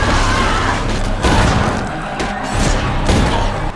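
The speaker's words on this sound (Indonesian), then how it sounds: "Tembak-tembakan pun terjadi" Gunfire and heavy booms from a zombie film shootout, loud and close, with repeated blasts and rumbling impacts layered over a dense, chaotic mix.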